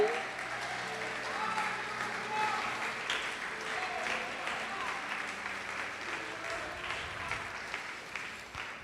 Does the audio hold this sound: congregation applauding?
yes